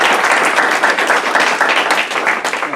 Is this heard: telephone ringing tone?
no